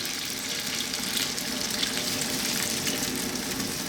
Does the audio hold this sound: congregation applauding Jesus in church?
no